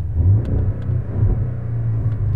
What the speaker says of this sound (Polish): Może strzel mu ze sprzęgła.